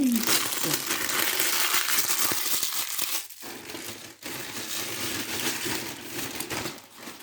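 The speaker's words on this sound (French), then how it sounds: "On va éviter de parler quand je fais du bruit avec les papiers." Paper is crumpled and crinkled close up in a dense, continuous rustle, with a brief pause partway through before the crackling resumes.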